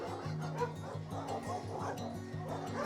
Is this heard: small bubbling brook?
no